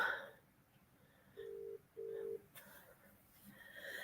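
A telephone call goes out: short dial tones, then two long ringback tones a beat apart, moderately loud over a quiet room with faint speech around it.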